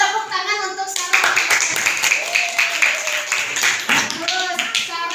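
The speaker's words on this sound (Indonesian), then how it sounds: "Nah, tepuk tangan untuk Sarah" Children in a primary-school classroom applaud a pupil named Sarah, with a burst of quick, uneven clapping that starts after a second and continues. Voices talk and call out over the clapping.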